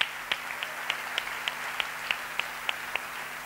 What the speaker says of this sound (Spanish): Pedro Campuzano, un aplauso para él.